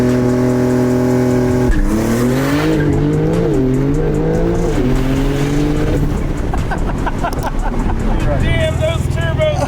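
A 2023 Shark Blue Porsche 992 Turbo S launches hard, engine rising in a strong rev sweep with shifting pitch and a brief tire chirp, close and loud, with excited voices talking over it.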